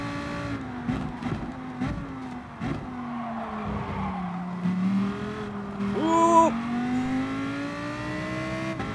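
Ferrari race car in Gran Turismo Sport, its engine a steady harmonic drone throughout with pitch dipping and climbing through gear changes, a brief high whine and tire squeal near the end, loud and close.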